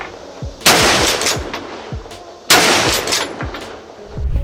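A Browning BLR Lightweight 81 lever-action rifle fires two loud, sharp shots a couple of seconds apart, each followed by a short ringing echo tail, with no talking.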